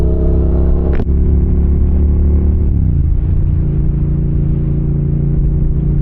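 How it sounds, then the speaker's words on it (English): A Yamaha MT07 motorcycle with a one-finger clutch mod idles steadily close by, its low engine drone briefly dipping and shifting as the clutch is worked, with no talk. "you can just hear the clutch and gauge how much play I have in it now"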